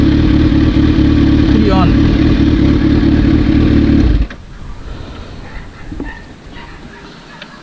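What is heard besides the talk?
Kawasaki Z H2 motorcycle engine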